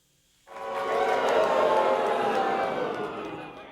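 A studio audience on a late-night comedy show erupts in a loud, sustained chant of "Boober" that sounds like booing, swelling quickly and then fading slightly over a few seconds, with no talking over it.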